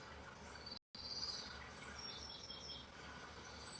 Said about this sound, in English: I told y'all the birds is chirping today.